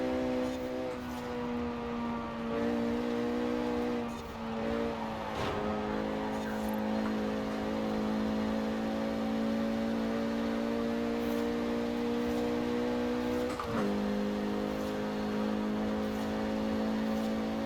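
A Renault Megane R26.R in Forza Horizon 4 holds a steady, loud engine drone at high revs, its pitch climbing and dropping briefly with gear shifts, alone without talk.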